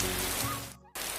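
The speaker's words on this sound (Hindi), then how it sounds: "रुपेश, बहुत ज्यादा बारिश हो रही है।" Heavy rain in a Hindi cartoon story, a dense steady downpour hiss filling the scene, cut off by a brief silent gap before resuming, with no talk.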